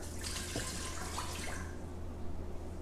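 Water pours from a measuring cup into a cooking pot for a hot carrot recipe, a short steady splashing stream that tapers off over a low hum, with no talking.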